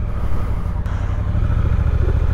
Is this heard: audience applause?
no